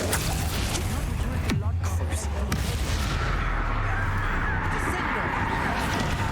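Bombarda explosion spell cast in the Hogwarts Legacy game, a sharp blast near the middle followed by rumbling booms and continuous game noise, with low background clutter throughout.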